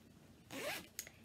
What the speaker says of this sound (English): It is a 9-inch zipper.